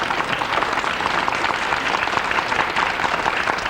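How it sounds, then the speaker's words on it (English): Steady, dense applause from a television studio audience at a local daytime talk show during a crafts segment, sustained at even loudness throughout with no pauses. "Go ahead, you can applaud her."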